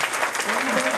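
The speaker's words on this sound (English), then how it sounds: "give them a big round of applause" Applause from a congregation at a church day service, a full, steady clapping crowd sustained across the moment with a voice speaking over it.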